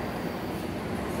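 A São Paulo metropolitan commuter train pulls into Barra Funda station with a steady, close rumble of wheels and carriages.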